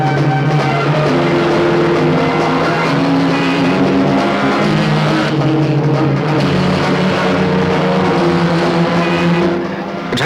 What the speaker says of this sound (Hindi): ड्राइवर तेज चलाओ। और तेज चलाओ।